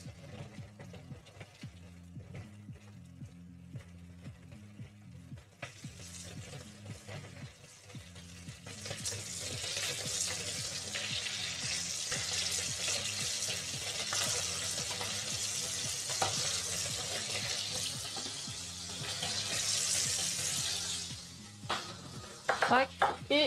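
Onions sizzle and fry in a pan while being stirred, a steady broadband hiss that swells louder midway, with scraping and clinks of utensils against the pan and low music or background hum underneath.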